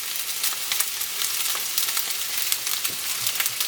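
Thinly sliced large onion fries in hot oil in a pan, giving a dense, continuous sizzle with small crackling pops throughout, close up and steady with no talking.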